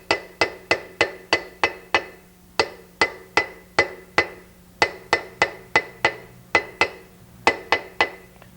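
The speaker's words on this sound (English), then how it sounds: "Hammering only on the edge of the bearing." A hammer strikes only the edge of a bearing being driven into a Bentley wheel hub, sharp metallic taps in quick regular bursts of several blows separated by short pauses, close and clear.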